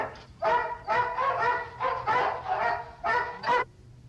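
A voice imitates a dog barking, giving about seven loud, harmonic yaps in an uneven rhythm with short gaps between them.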